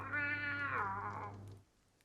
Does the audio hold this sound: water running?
no